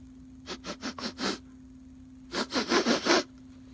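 A storyteller's voice imitates a tiger sniffing a man, two bursts of quick rhythmic sniffs, about five short breaths each, close and clear.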